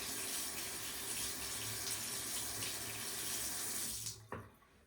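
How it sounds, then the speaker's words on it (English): Water from a tap runs steadily into a sink while a toothbrush is rinsed, a continuous close rushing stream that cuts off near the end with a brief clatter, no voices. "I will rinse my toothbrush."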